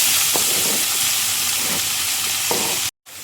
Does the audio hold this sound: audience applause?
no